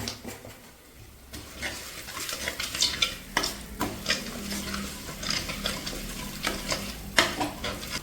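A spoon stirs turmeric powder into rasam ingredients frying in a pan for Kerala-style sadya rasam, giving repeated scraping strokes over a steady sizzle, close and fairly loud.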